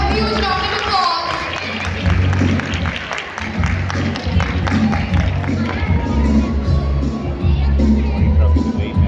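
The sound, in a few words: audience applause at a prize ceremony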